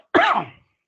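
A single sharp throat-clearing cough, close and fairly loud, lasting about half a second, then silence.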